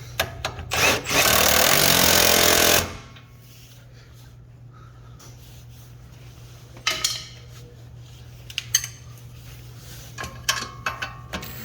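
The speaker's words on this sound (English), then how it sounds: "And then we'll go ahead and tighten it down" A power tool tightens bolts on the front shock of a 2007 Honda Odyssey in one loud whirring burst lasting about two seconds, followed by quieter clinks and handling of metal parts nearby.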